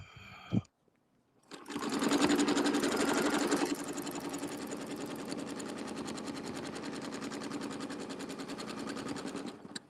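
A sewing machine stitches at close range, a rapid mechanical whir with a steady ticking rhythm that begins after a short pause and keeps running, louder at first and then settling.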